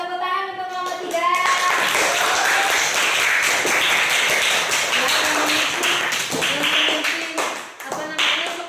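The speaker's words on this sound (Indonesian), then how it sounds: "Kasih tepuk tangan untuk kelompok 3." Classroom applause for a student group, brisk clapping mixed with children's voices and a teacher talking, loud and busy with rhythmic taps standing out near the end.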